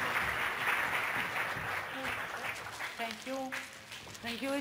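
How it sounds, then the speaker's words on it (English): Applause at the close of a conference, moderate clapping fading as a voice begins speaking over it midway through. "applause"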